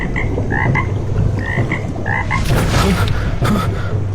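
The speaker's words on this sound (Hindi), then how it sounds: "तभी पीछे पानी में हल्की टर टर की आवाज हुई।" A frog croaks in short, repeated calls that come at a steady rhythm over constant outdoor ambience. There are no voices.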